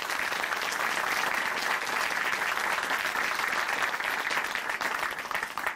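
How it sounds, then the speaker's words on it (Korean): A studio audience on a Christian television program gives a guest a loud, sustained round of applause, thick and even clapping from many hands that holds steady before cutting off abruptly at the end. "다시 한번 큰 박수 보내드릴게요."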